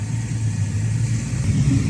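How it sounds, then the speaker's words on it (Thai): A Caterpillar CAT 323GX excavator with a Perkins CAT C4.4 4.4-litre 175 hp diesel, working on pond dredging, gives a loud, steady low engine roar that runs unbroken and close throughout. "โอ้โหเสียงเครื่องยนต์กระหึ่มมากครับ"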